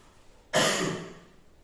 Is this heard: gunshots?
no